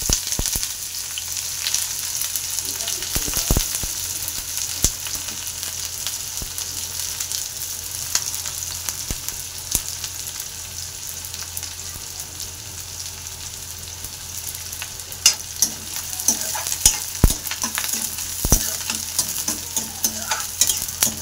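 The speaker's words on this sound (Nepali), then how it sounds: "तेल गरम भयो। अब चाहिँ म प्याज हालिदिँदैछु।" Onions fry in hot oil in a pan, a continuous close sizzle with occasional clicks and stirring scrapes running steadily throughout without any talk.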